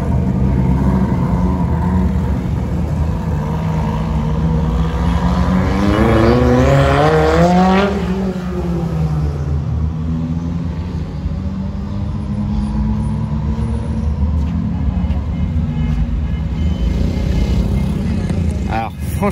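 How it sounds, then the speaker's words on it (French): Rally cars at a rally start in Vauban roar and accelerate away, engine pitch climbing steeply as one car pulls off near the mic, then a lower sustained rumble of engines as they move off, with crowd noise under it. "regardez, les voitures de rallye s'en vont"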